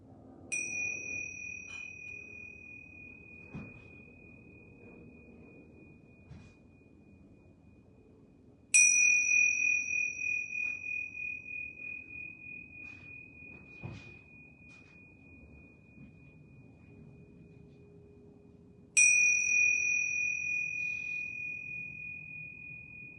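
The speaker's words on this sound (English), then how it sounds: "I'm going to ring bells 3 times to bring ourselves back to this time and place" A meditation bell rings three times at spaced intervals, each bright metallic strike leaving a long, slowly fading tone over a quiet room at the close of a yoga session.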